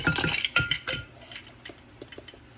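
Metal teaspoons clink and scrape against containers and a bowl while baking powder is measured for cinnamon-apple waffles, with a quick cluster of close, sharp taps followed by lighter, spaced ticks.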